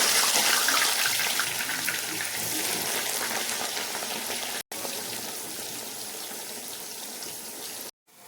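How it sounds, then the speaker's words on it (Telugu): Bitter gourd slices fry in oil with a dense, steady sizzle, hissing and crackling at moderate loudness, broken by two brief cuts to silence. "ఇలా నూనె వేసుకొని కాకరకాయ ముక్కలు వేసుకోవాలి"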